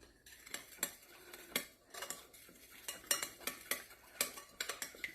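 A spoon stirs oils into a small sauce for crispy lettuce wraps, making quick, faint clinks and taps against the bowl in an uneven, busy rhythm close by.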